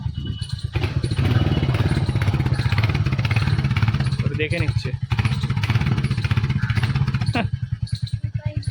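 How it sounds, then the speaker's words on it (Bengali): A motorcycle engine and exhaust run steadily close by, with a loud, continuous throbbing rumble that carries through the whole stretch and dips briefly twice, while a person talks over it. "এইটুকু বয়স থেকে বাইকের এক্সস্টের সাউন্ড ও শোনার হয়েছে"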